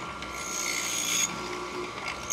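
A steel chisel taking full-width paring passes across wood for breadboard ends, giving a continuous close scraping and shaving rasp with slight changes in tone as the cut goes on.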